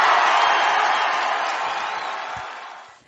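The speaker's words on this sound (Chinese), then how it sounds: "也给大家一个欢呼声哦！" A loud crowd cheers and whoops continuously, a dense roar of voices that slowly fades toward the end.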